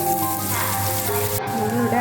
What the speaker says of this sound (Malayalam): ഇതിലേക്ക് ക്യാരറ്റ് ഇട്ട് കൊടുക്കാം.